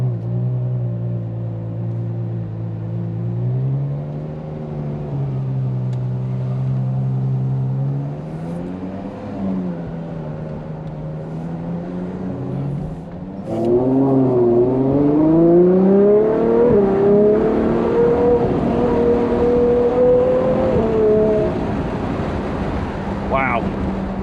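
A Ferrari 812 GTS naturally aspirated V12 engine revs and climbs through the gears from 0 to 60, pitch rising and dropping with each shift, loud with wind rushing past the microphone.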